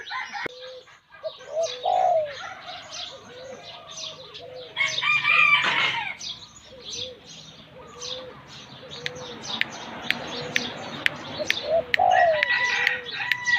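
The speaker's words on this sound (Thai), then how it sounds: "ก็มาฟังเสียง นกเขานกป่านะครับ เสียงน้อยนะครับ" Young wild male doves coo in repeated soft, rhythmic phrases nearby, with other birds chirping faintly in the background.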